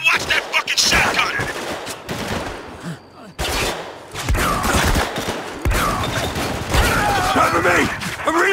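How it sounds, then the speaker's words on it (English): Shotgun blasts and gunfire in the war shooter Spec Ops The Line, with loud repeated bursts in dense combat and a shouting voice mixed in over the shots. "You better watch that fucking shotgun."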